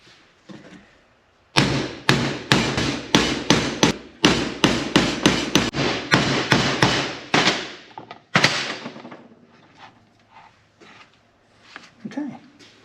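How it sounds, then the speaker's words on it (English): Repeated hammer strikes drive a 1/4 inch hole punch during an MG Midget restoration, a rapid run of loud, sharp metallic blows in two bursts, then a single hit followed by quieter handling noises. "Hole punch."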